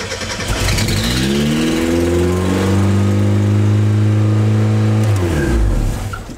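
A Supermiata's engine is cranked and fired after a clutch swap, then revs and climbs in pitch before dropping away, loud and close with no talking.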